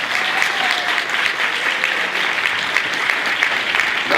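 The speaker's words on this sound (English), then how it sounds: "Let's clap our hands again for them" An audience at an awards ceremony and expo claps warmly for exceptional women of color honorees, producing a steady, full wash of applause with no pauses.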